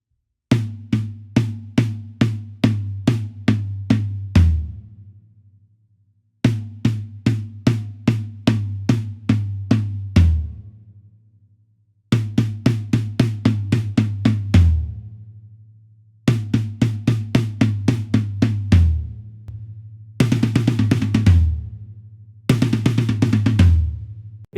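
A drum kit plays both beats of a song's intro together, rolling tom patterns over kick drum in repeated phrases with brief pauses between, the last passages adding washy cymbal or hi-hat.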